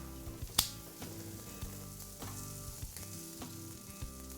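Bacon sizzles and crackles in a pan over turned-down heat, a steady close frying hiss with small pops and stirring scrapes throughout.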